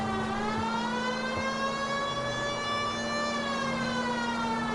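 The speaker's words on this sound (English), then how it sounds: "Put me siren on now." A police car siren in the video game L.A. Noire wails steadily and loudly, holding a continuous tone over the drone of traffic throughout.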